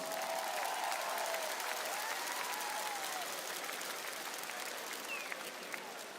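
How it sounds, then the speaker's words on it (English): Arena crowd at an NBL basketball game between Brisbane Bullets and Illawarra Hawks giving sustained applause, a dense, even roar of clapping that fades slightly toward the end, with faint voices. "give them a big round of applause"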